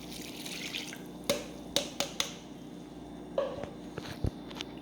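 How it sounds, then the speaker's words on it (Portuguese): Water, 300 ml measured for panettone braid bread dough, is poured into a bowl in a quiet kitchen, heard as soft trickling with several sharp drips and clinks over about five seconds. "Então eu vou colocar toda esta água aqui."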